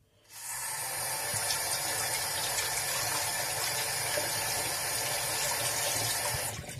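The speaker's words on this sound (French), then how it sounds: "Je vais me laver les mains." Tap water runs steadily into a sink for hand washing in a home bathroom, a continuous close gush that starts abruptly and holds at an even level with no talk over it.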